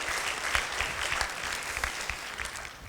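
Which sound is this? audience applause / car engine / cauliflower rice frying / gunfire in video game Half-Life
audience applause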